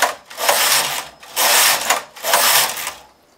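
Carriage of a knitting machine sliding back and forth across the needle bed, three or four loud rasping mechanical passes in a steady rhythm with short pauses between them, close and alone without speech.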